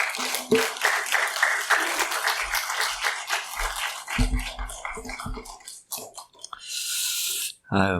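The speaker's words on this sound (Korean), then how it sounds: "제가 소개할 때 큰 박수로 환영해 주셨으면 좋겠습니다" Audience applause welcoming a pastor at a church gathering, a burst of clapping around the middle and end of the clip, with speech heard before and during it.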